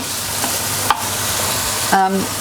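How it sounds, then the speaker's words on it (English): Bacon sizzles steadily in a pan while a utensil stirs it, with a couple of sharp scrapes and clinks against the metal standing out over the frying. "Give your bacon a stir because that's coming along nicely now."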